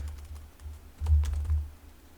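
Typing on a computer keyboard while writing Django blog code: soft, close clicks in a light patter, growing denser and louder in a busy burst in the second half, with no talking.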